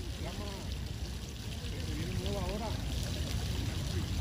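Water from an outdoor fountain rushes in a steady, continuous stream throughout, with voices talking over it.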